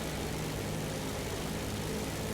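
Steady, dense drone of a Ju 87 D-5 Stuka's propeller engine in War Thunder, loud and continuous with a low rumbling core and no talk.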